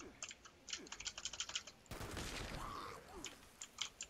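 A space bar tapped on a computer keyboard during Fallout 76 play: quick light key clicks trailed by a loud burst of in-game gunfire, with a few more faint clicks afterward.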